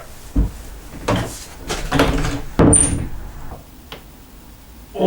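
A door being handled, with a few knocks, a creak and a latch click, fairly close and moderately loud, with no talking.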